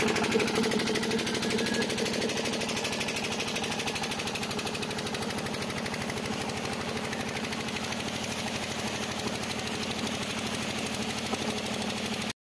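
Pump engine running for dredging work, a close, loud and steady mechanical drone with a fast, even knocking pulse that continues unbroken until a sudden stop at the end.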